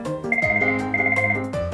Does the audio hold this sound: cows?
no